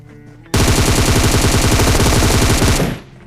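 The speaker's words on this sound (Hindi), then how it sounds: "अब मैं पहले फायर स्टार्ट कर देता हूँ" Automatic gunfire in a mobile battle royale game on a Samsung phone bursts in suddenly, a loud, rapid, continuous rattle of shots lasting over two seconds before cutting off, with no voice over it.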